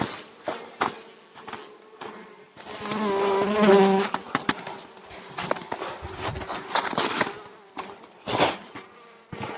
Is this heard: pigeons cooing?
no